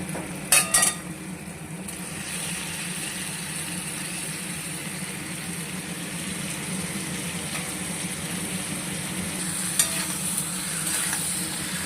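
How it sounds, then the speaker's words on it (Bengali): Pre-fried cauliflower goes into spice masala that has released its oil, for a duck egg and cauliflower curry, then is stirred as it fries. A steady close sizzle runs throughout, with a few sharp spatula scrapes near the start and again near the end, and no talking. "এই রকম পরিস্থিতিতে আমি দিয়ে দেবো ভেজে রাখা ফুলকপি"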